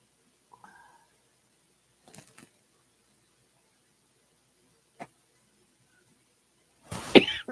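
A single harsh cough bursts out near the end, preceded by a few faint scattered rustles and clicks in an otherwise quiet room.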